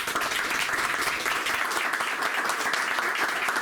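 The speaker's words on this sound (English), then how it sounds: "So please help me welcome Michael Wohl and Ethan Sandler" A bookstore audience in West Hollywood applauds to welcome two speakers to a memoir event, a dense, steady wash of many hands clapping for the whole stretch, with no voices over it.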